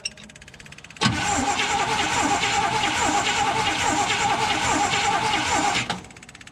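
A big block 454 Chevy truck engine, left sitting for 27 years, cranks briefly and then catches, running loudly and steadily for about five seconds before cutting off.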